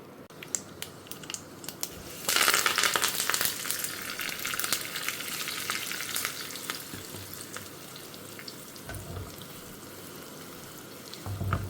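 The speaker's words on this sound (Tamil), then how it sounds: "ஜஸ்ட்டு கடுகு வெந்தயம் பெருங்காயம் கருவேப்பிலையை தாளித்து கொட்டிடலாம்" Mustard seeds, fenugreek, asafoetida and curry leaves hit hot oil, with a sudden loud burst of sizzling that settles into steady crackling and frying, and a few clinks and a brief tap-water splash near the end.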